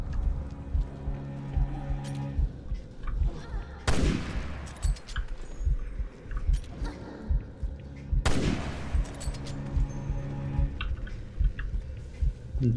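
Gunfire in the video game Resident Evil Revelations 2, with two loud sharp shots standing out against busy game sounds and scattered thuds and clatter throughout.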